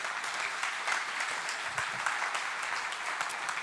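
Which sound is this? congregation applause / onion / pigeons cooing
congregation applause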